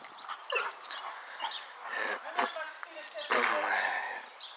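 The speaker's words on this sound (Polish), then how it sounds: "psa Państwu tutaj pokażę" A dog whimpering and yipping in short, high bursts, fairly close, mixed in with people talking nearby.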